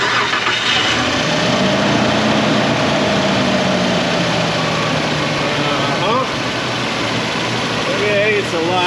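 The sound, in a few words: 2000 Nissan Pathfinder 3.3 engine starting and idling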